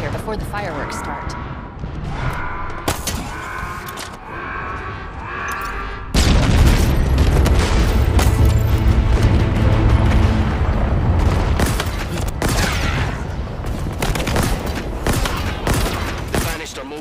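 Halo Infinite combat erupts with rapid gunfire bursts and heavy booming explosions, loud and dense after a quieter start, with brief voices mixed into the chaos.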